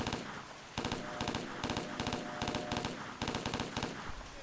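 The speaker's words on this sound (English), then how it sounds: "Ah, crap! He's firing!" Enemy gunfire in the video game Hidden and Dangerous: rapid bursts of automatic shots crackling in quick rhythmic clusters, steady and fairly close, with brief gaps between volleys.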